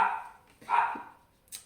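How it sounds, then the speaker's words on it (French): A dog barks twice in short, muffled bursts at moderate distance, with a brief higher yelp at the end and no talk. "Oh, je suis désolée pour le chien."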